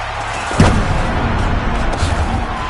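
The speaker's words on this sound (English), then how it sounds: "Looks like the T-shirt cannon here" A T-shirt cannon fires once in a football video game, a sharp booming thump standing out over a continuous dense background of game noise and crowd roar.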